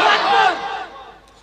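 A crowd at a Bengali waz sermon roars a takbir in unison, a loud, massed shout that swells and then trails off into a thinning echo.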